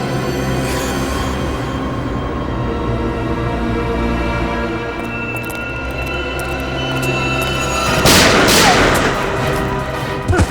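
Missile launch explosion in a Hindi TV crime drama: a steady low rumble builds, then a sudden loud, roaring blast bursts out near the end, followed by a short crackle.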